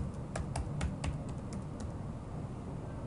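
A password typed on a computer keyboard, with a quick run of close, crisp key clicks over a steady background hum, followed by a pause.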